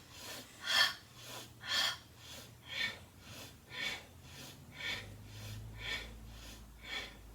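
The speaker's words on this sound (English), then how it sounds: "So you inhale, exhale." Slow, steady breathing during a seated exercise session, with about ten evenly paced, close, soft breath sounds and no talking.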